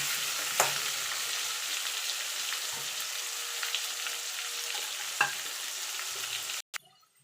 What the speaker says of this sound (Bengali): এবার এটাকে আমি লাল লাল করে ভেজে তুলে নেব